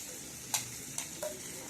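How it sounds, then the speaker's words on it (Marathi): Eggplant pieces and spices sauté softly in a pan, with a quiet continuous sizzle and three brief scrapes or stirs of a utensil. "एक ते दीड मिनिट आपल्याला वांगे असेच परतून घ्यायचे आहेत"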